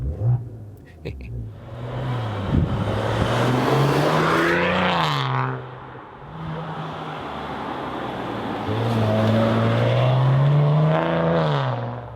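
A Maserati Ghibli SQ4 twin-turbo V6 petrol engine revs from a standstill, two long sweeping climbs in pitch that hold and fall back to idle, loud and close, with a voice speaking faintly under the start.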